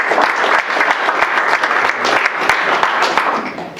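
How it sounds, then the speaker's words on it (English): An audience at a Veterans Day ceremony claps for an honored Air Force veteran, a loud, close burst of applause with distinct individual claps that holds steady and tapers slightly at the end. "Let's give him a round of applause."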